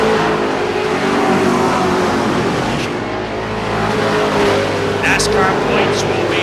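NASCAR race cars roaring around the track in a loud, dense engine drone, with the pitch swelling as cars pass and a race announcer talking over it.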